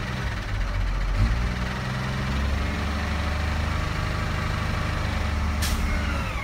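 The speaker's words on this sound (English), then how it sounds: "Give it some gas so it can operate faster. That's for the fifth wheel and the lift." A yard shunt truck's diesel engine idles and then rises to a steadier, louder run as gas is given to lower the fifth-wheel lift, with a brief hiss of air near the end.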